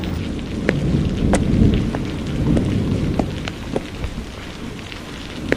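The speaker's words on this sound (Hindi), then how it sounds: "बारिश और तेज होती जा रही थी। बारिश की बूंदें तेज पड़ती जा रही थी।" Steady heavy rain pours down, with sharp crackles and a rolling rumble of thunder swelling in the low end throughout.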